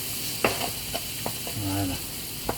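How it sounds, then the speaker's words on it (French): Cooked onions being stirred into a vegan béchamel in a pan for a vegan pizza, a low steady sizzle with several sharp spoon clicks and a scraping stir, no speech. "une fois que les oignons sont cuits, je vais les ajouter dans ma béchamel. Je mélange."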